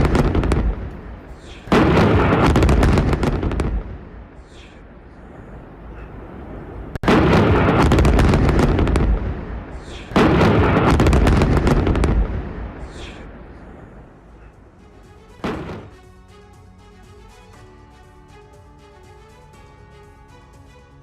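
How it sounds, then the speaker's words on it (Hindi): Israeli air strike bombardment in southern Lebanon: several heavy, loud explosions roll out in separate long rumbling bursts, followed by a sharp blast and a fading tail. "दक्षिणी लेबनान में IDF की भीषण बमबारी"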